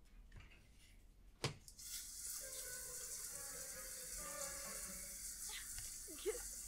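Shower running in The Sims video game, a steady hiss of spraying water that starts after a brief thump and carries on evenly at moderate level, with a few small clicks near the end.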